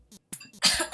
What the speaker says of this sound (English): this coughing, this hacking sound